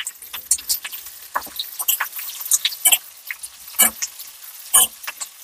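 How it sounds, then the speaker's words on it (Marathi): Onion fries in hot oil in a pan, a steady close crackle of fine pops and sizzles with scattered sharper spits, no voices present. "कांदा पण लाल खरपूस भाजून द्यायचा."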